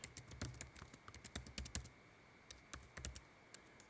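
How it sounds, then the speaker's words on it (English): Computer keyboard keys clatter in quick irregular bursts of typing with brief pauses, close and fairly quiet, as entries go into spreadsheet cells with presses of the enter key. "I'm just hitting enter to move from one cell to the next."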